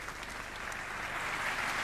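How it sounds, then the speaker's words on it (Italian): Audience applause for a female singer on stage at a song contest, a dense, even wash of clapping that swells slightly toward the end, with no voices over it. "per te naturalmente gli applausi"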